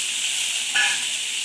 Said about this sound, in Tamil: இந்த மசாலாலாம் போட்டு வறுத்துக்கலாங்க.